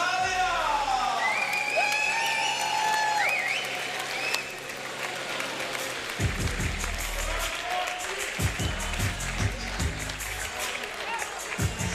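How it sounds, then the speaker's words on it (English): Audience applause and cheering fill an arena at the FIBA 3x3 Europe Cup 2025 basketball finals in Copenhagen. Steady clapping runs throughout, with an announcer's voice and music over it. "A big round of applause for Italia!"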